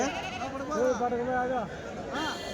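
Goats bleat in wavering, nasal cries close by at a weekly goat market in Kadiri, one long call followed by a shorter one.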